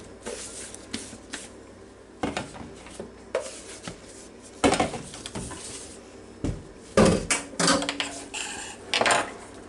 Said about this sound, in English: All I have to do now is put the tomatoes in there.